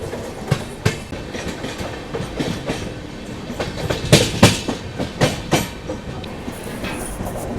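The Maharashtra Sampark Kranti Express rolls slowly through Vasai Road station without stopping, its wheels giving a loud, uneven clickety-clack over rail joints, with heavier clunks near the middle and a constant rumble underneath.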